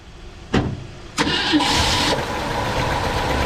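A Ford Fairlane project car engine cranks in two sharp attempts, catches and settles into a rough, loud idle close by.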